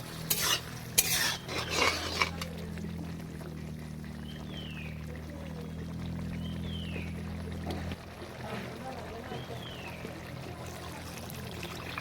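Vegetables and tomato sizzling in a pan while a utensil stirs and scrapes, a few louder clatters at the start, then a steady quieter fry.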